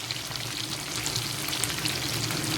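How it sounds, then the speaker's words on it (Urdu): Marinated fish fries in hot oil for a Lahori-style fish fry, a dense, continuous close-up sizzle and crackle with no voices. "یہ فش ہماری فرائی ہو رہی ہے۔"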